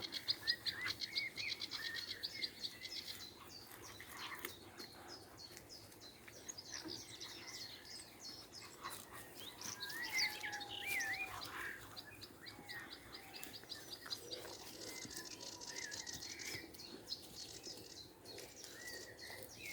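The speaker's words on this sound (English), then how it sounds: "Got reed warbler now singing in the reeds over there." A reed warbler sings from a reed bed in the Cheshire countryside, a faint, continuous chattering song heard at a distance among other small birds and insects in open outdoor air.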